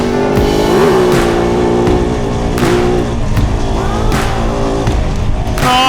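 A Kove 450 motorcycle engine revs hard and loud up close, its droning pitch rising and falling steadily through gear changes on a wet, soaked outdoor ride.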